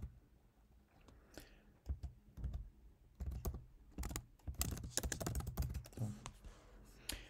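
Irregular clicks of a computer keyboard as code is typed in JavaScript, quiet and fairly close, with bursts of rapid keystrokes and short pauses, no voice.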